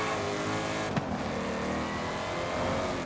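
Ford Mustang launching hard in Forza Horizon 5, a loud, continuous engine roar that builds steadily with a brief sharp transient near the start, heard alone without talk.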